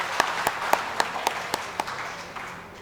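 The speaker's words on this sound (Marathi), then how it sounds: "एकदा जोरदार टाळ्या होऊ जाऊ द्या आपल्या सगळ्यांसाठी।" An audience of farmers gives brief applause: a handful of distinct, evenly spaced claps that thin out and fade within a few seconds.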